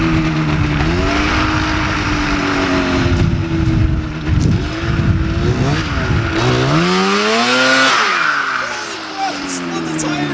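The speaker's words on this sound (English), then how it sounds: "You spun the tires the whole way down the driveway." A snowmobile-engined go-kart does a burnout, its engine revving hard and rising in pitch while the tires spin and squeal, loud and close, then settling as the run winds down.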